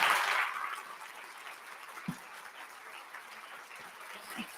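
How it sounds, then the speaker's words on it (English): Scattered applause fades quickly from a brief burst to quiet, sparse clapping, with a few soft thuds. "We want to make sure they give Lisa a big round of applause."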